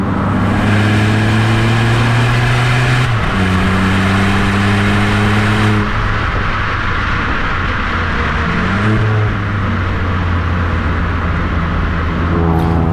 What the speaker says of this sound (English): I finally took Divij out in the N-Line just so he could experience what a true sporty hatch really feels like.